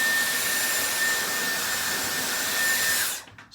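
A Dyson Airwrap blows a steady, loud rush of air while curling and drying damp hair near the roots, holding one even whoosh for about three seconds before it cuts off abruptly.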